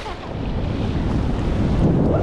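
Large ocean waves roll in with strong wind buffeting the microphone, a loud continuous roar and rumble of surf close by, with no clear speech over it.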